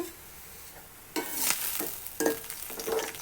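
Onions fry for Bengali birista in hot oil, giving a steady close sizzle. A few clattering stirs of a spatula break through it, and no one speaks.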